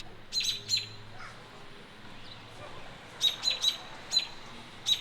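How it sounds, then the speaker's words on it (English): Birds chirp outdoors near a hotel pool and barbecue area: a few short, high tweets in small clusters, moderately distant, over quiet background hiss. "So you'll be able to enjoy the birds chirping while you're swimming, barbecuing,"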